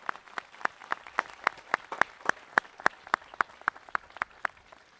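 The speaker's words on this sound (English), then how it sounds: "Round of applause," Applause at a high school class of 2021 graduation ceremony: steady, evenly spaced claps, fairly faint, sounding like only a few people clapping, no speech.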